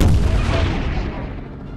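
A loud explosion booms in the Airship.C helicopter game, its deep rumble decaying over a second or two with crackling gunfire mixed in.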